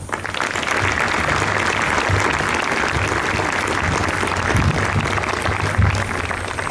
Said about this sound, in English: Big round of applause for those two.